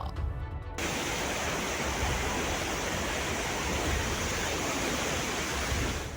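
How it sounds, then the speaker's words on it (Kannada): After a brief quieter opening, a dense, steady roar of a rain-swollen river in Karnataka takes over and continues loudly to the end. "ನದಿಗಳ ಭೋರ್ಗರೆತ"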